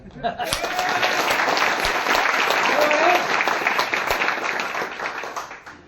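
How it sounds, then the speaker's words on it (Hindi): An audience at a motivational talk claps together, a steady, loud round of applause lasting several seconds that swells and then gradually fades. "ऐसे एक बार बजाओ ताली।"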